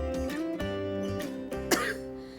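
An elderly man coughs repeatedly in short, harsh bursts with some throat clearing, close and fairly loud, with no talking.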